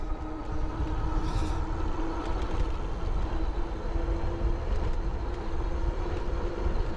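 Heybike Ranger folding e-bike pulling away from a dead stop at full throttle on power setting 3, a steady close rumble of motor and wind noise holding at an even level for the whole stretch.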